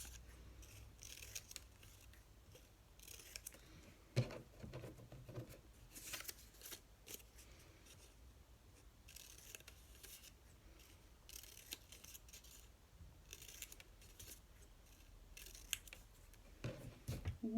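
Scissors cut paper or craft pieces for a watermelon-themed craft, producing quiet repeated snips and rustles at an irregular pace with no voices.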